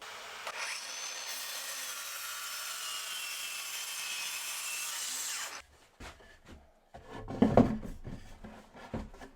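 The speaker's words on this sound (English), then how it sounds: "So I'm going to get those cut on the track saw and installed." Track saw cutting wooden boards for a garden bench, a loud continuous cutting whine for about five seconds, then scraping and handling knocks of the boards.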